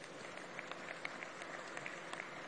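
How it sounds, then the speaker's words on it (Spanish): Faint scattered clapping from workers at a steel rebar rolling mill, with sparse individual claps over a low background hum. "Un aplauso desde aquí."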